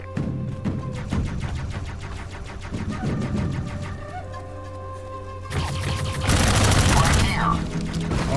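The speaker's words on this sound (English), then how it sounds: "I'm pinned down! It looks like a fortified turret." A fortified turret in a video game fires rapid bursts of gunfire, sharp shots in a fast regular rhythm followed by a loud blast, with voices talking over it.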